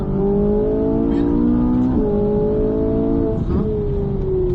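A car pulls out of a corner and accelerates on a race track, its engine note rising in steady harmonic sweeps with two quick gear shifts, loud and close with no talk over it.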